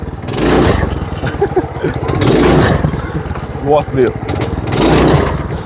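A homemade tricycle with a 212cc engine revs in loud repeated surges, rising and falling close by, while someone talks over the engine.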